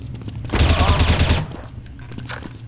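A dense burst of rapid automatic gunfire rings out in Counter-Strike: Source, loud and close for about a second before dropping to faint background clatter and distant noise.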